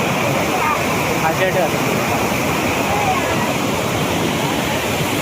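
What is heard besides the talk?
water falling down the slope of Karav dam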